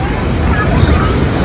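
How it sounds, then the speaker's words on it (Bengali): Sea waves roll and break at Puri beach, a loud, close, continuous rush of surf mixed with heavy wind buffeting the microphone. "এখানে মারাত্মক ঢেউ আসছে"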